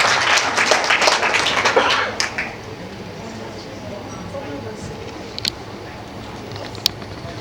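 Short burst of audience clapping at a Maori hui gathering for a National Party candidate, fading after about two seconds into quiet room tone with a few faint clicks.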